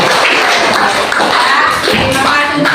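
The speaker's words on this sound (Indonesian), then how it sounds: "Kita kasih dulu tepuk tangan." A classroom of students applauds their classmates' presentations in a history lesson, a dense, steady patter of many hands clapping at once, close and continuous throughout.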